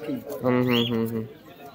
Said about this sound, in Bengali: খুব সুন্দর একটা পায়রা।